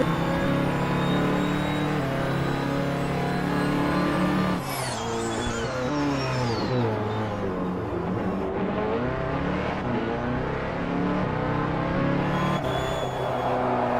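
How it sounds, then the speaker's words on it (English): Onboard engine of the number 9 Ferrari 499P prototype at Laguna Seca in a sim racing game, a loud continuous howl that drops through downshifts midway and then climbs again, with a race commentator talking over it. "Now on board with Ben Kesby driving the number 9 Ferrari 4099P."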